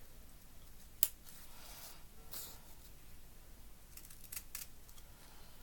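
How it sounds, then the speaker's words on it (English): Scissors fussy cutting a small paper edge on a mini dress embellishment give a few faint, close, crisp snips, one sharper click then softer cuts spaced apart over quiet background, with no talking. "I am going to just fussy cut this little edge here."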